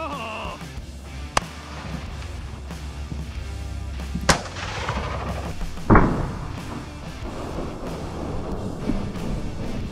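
Three sharp shotgun blasts ring out a few seconds apart during an outdoor dove hunt near Yuma, Arizona, over steady background noise.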